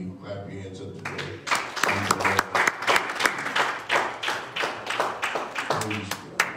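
A church congregation claps together in a steady, rhythmic beat of many hands, coming in after a voice and a sustained tone, with a voice returning briefly near the end.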